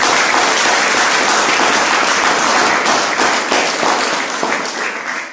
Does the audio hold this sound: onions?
no